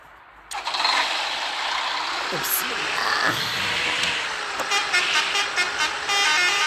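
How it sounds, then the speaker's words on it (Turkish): A Neoplan Styliner coach of the Pamukkale Jumbo fleet starts its engine: a sudden broadband roar settles into a steady diesel rumble under a brief spoken word, with small clicks and whines from the cabin. "Evet arkadaşlar otobüsümüz. Neoplan Styliner, Pamukkale Jumbo."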